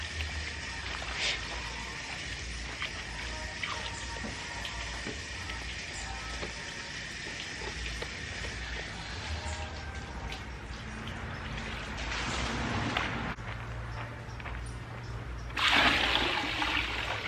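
Clothes being rinsed by hand in a basin of water during an outdoor laundry day in Jamaica without a washing machine, giving steady sloshing, trickling and splashing close by, with a louder burst of pouring near the end.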